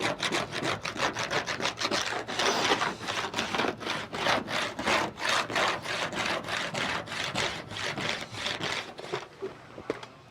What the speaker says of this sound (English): I'm just gonna start scraping it and then maybe hit it with another coat.